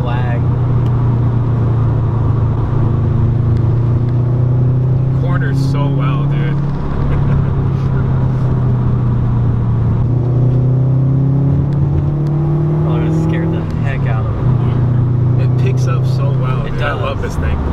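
A 300 hp 2013 Subaru WRX engine pulls hard through higher gears, a loud steady drone rising in pitch from inside the moving car with no talk.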